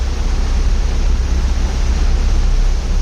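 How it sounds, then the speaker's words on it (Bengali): Waves of floodwater surge over a flooded road junction with a constant, heavy wash like sea surf, loud and close, with no talking. "সমুদ্রের ঢেউ।"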